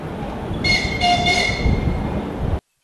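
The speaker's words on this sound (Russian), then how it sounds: "5 дней в неделю на 4 станциях свободного курсирует локомотив с детьми." A locomotive runs on a narrow-gauge children's railway, giving a steady rumbling rail noise with a few brief horn-like tones in the middle. The sound stays loud and close throughout, then cuts off abruptly.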